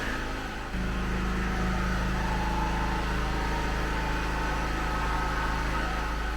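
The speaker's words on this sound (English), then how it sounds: "sorry about the noise of that generator" A portable generator drones loudly and continuously nearby in a workshop where a VTEC B16-engined Clubman Mini is being built, a steady mechanical hum with no talk over it.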